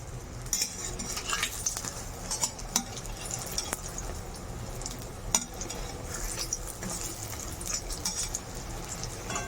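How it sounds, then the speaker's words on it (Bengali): Eggplant pieces fry in a pan, a quiet continuous sizzle punctuated by frequent scraping and metallic clinks of a spatula against the pan. "দেখুন বেগুনগুলো ভাজা ভাজা হয়ে এসছে"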